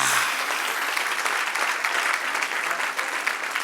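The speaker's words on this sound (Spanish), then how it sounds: "Dale un aplauso al Señor" Congregation applauding during a church service, a dense, steady burst of many hands clapping that fills the room and holds evenly for a few seconds, without speech.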